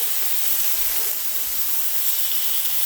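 Pork cube steaks browning in a hot pan give off a steady, bright hiss of sizzling fat that stays even and close throughout.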